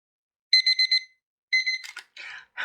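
A kitchen-style timer alarm goes off, sounding a close, loud burst of rapid electronic beeps, then a shorter second burst, followed by brief rustling and handling noises.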